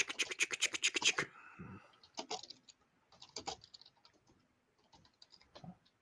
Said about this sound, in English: I like hearing you type.